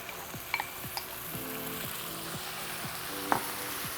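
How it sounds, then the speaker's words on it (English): Chopped tomatoes frying with aromatics in a pan for a polenta relish, giving a steady soft sizzle with occasional stirring scrapes and light clinks, close and without speech. "what I'm going to do now is add 2 chopped tomatoes"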